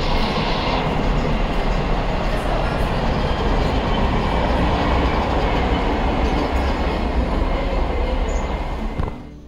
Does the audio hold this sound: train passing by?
yes